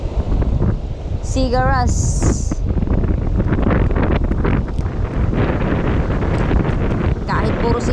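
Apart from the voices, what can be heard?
wind and rough sea waves while fishing on a boat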